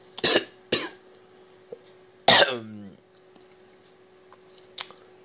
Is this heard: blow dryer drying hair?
no